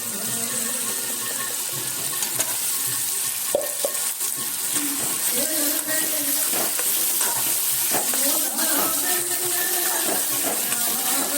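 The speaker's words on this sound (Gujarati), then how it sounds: "હવે આપણે એમાં એડ કરીશું આ છે પાલકની પ્યુરી" Spinach puree is stirred into a frying spice masala for a spinach and garlic sabzi, giving a loud, continuous sizzle with wet stirring scrapes and clatter near the pan. No voices are heard.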